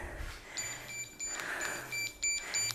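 A workout timer resetting during a fitness exercise routine gives a series of short, high electronic beeps repeating at a steady rhythm over a low background, with no talking.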